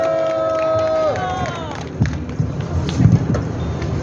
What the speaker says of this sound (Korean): 우리 박찬희 군에게 다시 한번 큰 박수 부탁을 드립니다